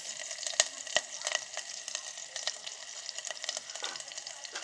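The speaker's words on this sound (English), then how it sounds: "and fry the onion till the onion will get the color light brown" Garlic and chopped onions frying in oil inside an electric kettle, a quiet, steady sizzle with scattered crackles and pops, close and without voices.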